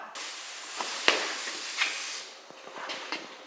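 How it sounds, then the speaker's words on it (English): Steady hissing spray from a paint spray gun with brief pauses and a few short bursts, close by and fairly loud, no talking. "So I'll get my little spray gun out"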